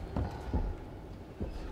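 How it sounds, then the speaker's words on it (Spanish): Heavy, slow footsteps of Mr. X stalking through the Resident Evil 2 Remake, three dull low thuds spaced irregularly over a constant murky game ambience. "oigo las pisadas de Mr. X"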